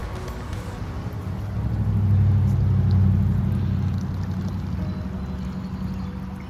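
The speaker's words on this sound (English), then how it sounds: "I found this really cool creek." A creek on the road between Wytheville, Virginia and Knoxville, Tennessee runs with a low, steady rushing flow, swelling slightly in the middle and otherwise continuous, with no talk.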